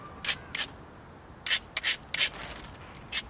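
A flint ridge point is ground by hand in short, scratchy strokes, about eight quick rasping bursts in an irregular rhythm, close and fairly faint against a quiet background.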